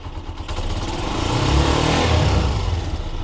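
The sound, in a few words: TMX 125 Alpha motorcycle engine revving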